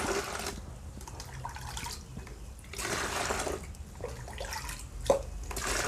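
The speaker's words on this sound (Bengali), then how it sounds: "এবার এই বালতিতে নিয়েছি কিছু ফ্রেশ জল এখান থেকে দ্বিগুণ পরিমাণে তরল এই জলের সাথে মিশিয়ে নেব" Liquid fertilizer is poured into a bucket of fresh water and mixed, giving gushing and splashing pours in several bursts with short drips in between, close and fairly quiet.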